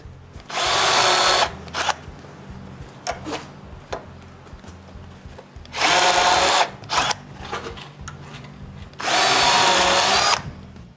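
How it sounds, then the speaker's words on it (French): A power drill fitted with a Vixbit centering bit bores pilot holes for a hinge in wood, in three loud, sustained whirring bursts separated by quiet pauses. "je perce un trou pilote avec une mèche à centrer Vixbit"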